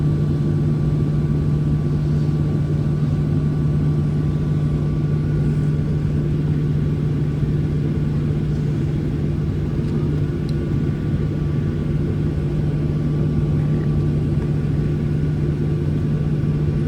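A United Boeing 737 jet engine drones steadily inside the cabin during takeoff from Tampa, a loud constant low hum with a strong steady tone and no talk.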